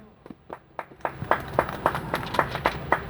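A small group at a railway workers' union press conference claps in a steady rhythm of sharp, distinct, closely recorded claps.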